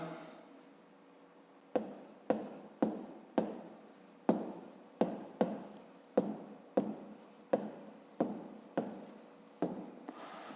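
Pen or pencil writing on paper while working a fifth-grade math exercise: a quiet run of short, evenly spaced scratchy strokes, close and soft, continuing steadily without pause.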